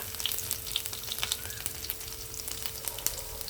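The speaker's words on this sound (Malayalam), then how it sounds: "ഇനി അതിലേക്ക് നമുക്ക് ഇഞ്ചിയും വെളുത്തുള്ളി അരിഞ്ഞിട്ട് കൊടുക്കാം." Chopped ginger and garlic frying in hot oil with already-popped mustard seeds, a steady close sizzle with crackles and spits throughout, no talking.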